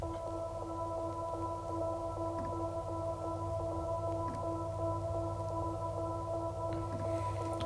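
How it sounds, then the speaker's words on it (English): A synth pluck layer drenched in reverb, programmed in Logic Pro X, rings out as sustained, washy tonal notes that blur into one another, steady and alone without any voice. "there's one layer that is basically just drenched in reverb."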